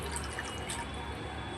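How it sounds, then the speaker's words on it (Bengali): Water pours into a pan of cooked-down masala for a paneer curry, a short steady splash and trickle close up. "চলো এবার জল দিয়ে দিই।"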